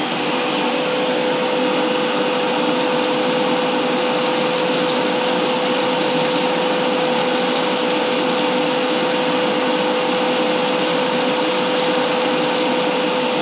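The suction fan of a zig-zag seed cleaner for black oil sunflower seeds roars at full power, a loud, constant whooshing drone with no pauses or changes throughout.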